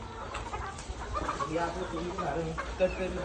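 Chickens cluck softly and intermittently nearby on a poultry farm, mixed with faint background voices and farmyard ambience.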